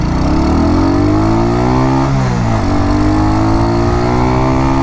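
An RPS Condor 150 motorcycle, a 2023 Honda Grom clone, rides in fifth gear at about 45 mph. Its small single-cylinder engine holds a loud, steady drone, dipping briefly in pitch midway before settling back.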